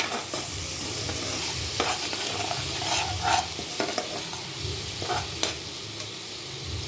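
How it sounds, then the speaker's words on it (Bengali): Onion, ginger and cashew paste frying in a pan for a soya chunk and potato curry, stirred steadily: a continuous close sizzle broken by repeated scraping spoon strokes, with no talking. "ভালো করে কষিয়ে নেব। আর এর মধ্যে রয়েছে কিছুটা পেঁয়াজ আর আদা, রয়েছে কাজু, একসঙ্গে পেস্ট করে নিয়েছি।"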